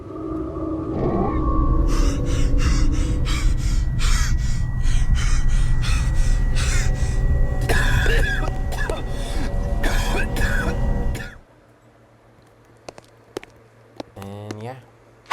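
A game character in The Vampire Legacies 2 gasps and struggles for breath while being suffocated, loud, strained, choking rasps running continuously for about eleven seconds, then a sudden drop to quiet with a few faint clicks and a short final gasp.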